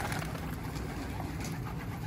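Pet pigeons coo softly inside a coop, a faint, low, rolling murmur repeating through the short stretch with no voices.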